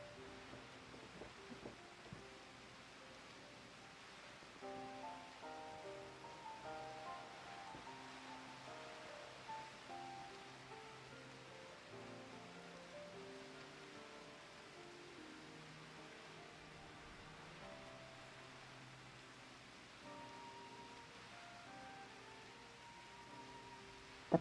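Heavy rain pours down steadily in Final Fantasy XIV, a broad soft wash of downpour running under layered game music and ambience throughout, with no talk.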